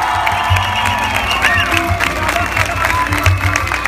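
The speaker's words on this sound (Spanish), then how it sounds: "Ahora todo el mundo, un fuerte aplauso para los capitanes" At a Relay for Life gathering on Ramey Base in Aguadilla, a crowd cheers, whoops and claps for the team captains in a loud, dense, continuous roar with scattered shouts, all at close range.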